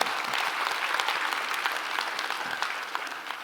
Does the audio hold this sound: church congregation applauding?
yes